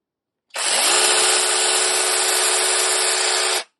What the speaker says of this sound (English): So I'll run the chainsaw a bit.